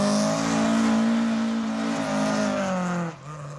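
Ford Sierra Cosworth revving at a car meet at the Ace Cafe in North London, a loud sustained engine drone that wavers in pitch before falling off sharply near the end.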